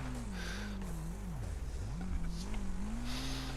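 Race cars in Wreckfest, a loud engine note rising and falling as the driver shifts and lifts, with deep rumbling underneath and brief scrapes of other cars nearby.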